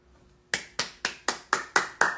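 Seven sharp, evenly spaced hand claps, close and crisp, about four per second after a brief quiet start, given as applause for Lari.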